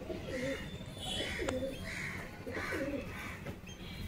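Pigeons coo in soft repeated phrases, a few rounded calls close by against a quiet outdoor backdrop, with one brief sharp click midway and no speech.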